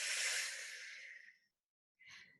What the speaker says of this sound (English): Exhale out through your mouth.